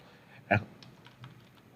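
Typing Python code on a computer keyboard: one sharp, prominent keystroke followed by a few softer, scattered taps, close and quiet against a still room.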